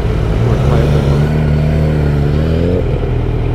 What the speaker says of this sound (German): Digga, Alter, wie viele Autos kommen hier?